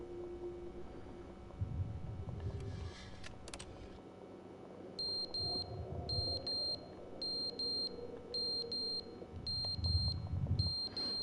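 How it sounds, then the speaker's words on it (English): A digital alarm clock in the video game The Stanley Parable beeping in a steady repeating pattern of short, high electronic pulses, preceded by soft clicks and thuds in a quiet room. "It's alarm clock."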